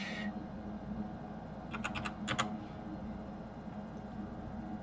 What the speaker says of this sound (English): Sorry, my typing isn't that fast,